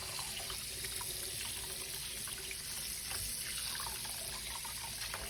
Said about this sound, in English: I'm going to wash it with some vinegar and some lime.